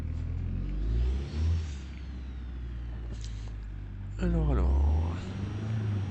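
Car engine in the BeamNG.drive driving game, a steady low drone with a couple of brief revs and a louder surge near the end, heard under a man's speech.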